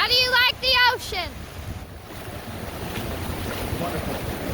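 Wind buffets the microphone beside the ocean while surf rolls in steadily, the roar continuing after a voice speaks briefly at the start.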